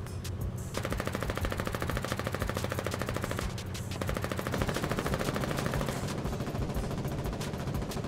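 Sustained rapid machine-gun and rifle fire from a naval battle in the war game Foxhole, a dense, loud, continuous rattle of shots with brief dips, and no voices over it.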